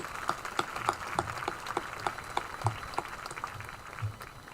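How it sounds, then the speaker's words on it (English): An audience at the Batavia High School Class of 2023 graduation ceremony gives a round of applause: steady, moderately loud, sparse clapping from many hands. "Please give them a round of applause."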